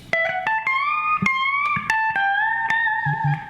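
A guitar lick mixing major and minor pentatonic, played slowly with clear picked notes and bends, each attack ringing cleanly and alone.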